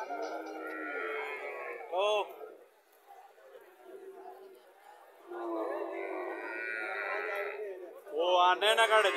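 Friesian cattle mooing at a livestock market, several loud, drawn-out calls rising over a crowded background of people talking.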